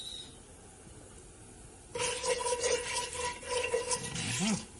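After a quiet start, curry powder and bay leaves hit hot oil in a pan with a sudden loud, steady sizzle that carries on to the end, with faint stirring scrapes near the close.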